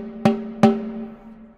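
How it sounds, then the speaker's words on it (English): Wooden snare drum struck twice with the snares switched off, each hit a clean ringing tonal thump that decays slowly, close and loud with no rattle. "Now, if I turn off the snares using this lever here"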